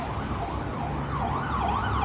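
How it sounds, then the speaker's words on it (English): An ambulance siren wails in a rising and falling pattern near a bus station and the A167 road in Darlington, fairly loud over a low traffic rumble. "And we've got an ambulance here now."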